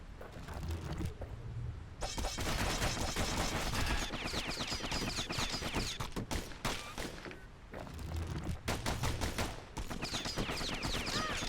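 Twin slinger pistols fire in the video game Bastion, rapid bursts of gunfire in dense volleys that stop briefly and resume, mixed with game music and effects, fairly quiet overall.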